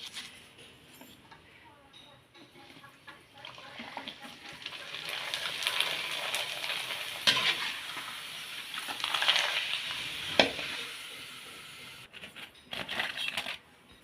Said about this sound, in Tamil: இப்போ வந்து அப்பளத்தை பொறிச்சிடலாம்